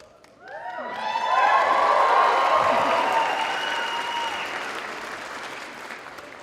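Applause at a community college campus commencement ceremony, rising quickly to a loud, sustained crowd clapping with some cheering, then slowly easing off, with no clear speech.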